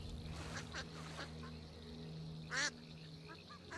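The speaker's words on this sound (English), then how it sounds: "Oh look, it's Ducks and Swans of Skyrim." Ducks from the Ducks and Swans mod for Skyrim give a single clear quack near the middle, with a few fainter calls around it, all quiet against soft game ambience.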